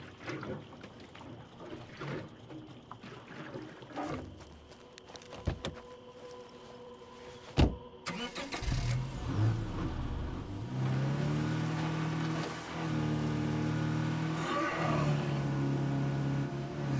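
Car driving in the State of Decay 2 video game, an engine drone that starts quiet and low, then swells into a steady loud rumble after a sharp thud, with no talk.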